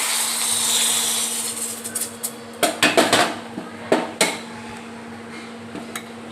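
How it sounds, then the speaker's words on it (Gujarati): Hot tempering (vaghar) poured into Gujarati sweet-and-sour tuvar dal, a brief hissing sizzle at first, then a run of sharp metallic clanks and taps of a spoon against the pot. "હવે આમાં વઘાર નાખી દઈશું।"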